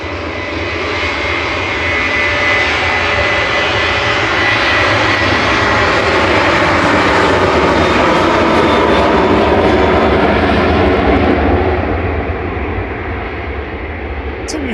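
A Jet2 airliner, registration G-DZY, departs Manchester Airport for Antalya. Its engines roar loudly and steadily for the whole stretch, swelling slightly and then easing off as it moves away.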